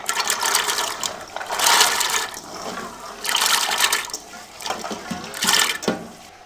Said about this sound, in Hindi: अब इन चनों को हम पानी में शामिल कर देंगे।